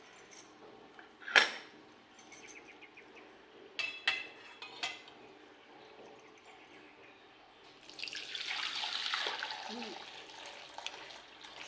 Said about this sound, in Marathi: ते आता या टोपामध्ये ओतूया.